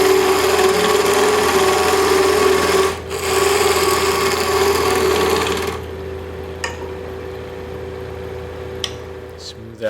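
A parting tool cutting a wooden tenon on a lathe, a steady whining scrape with a motor hum beneath, briefly interrupted, then dropping to a quieter hum with occasional faint ticks.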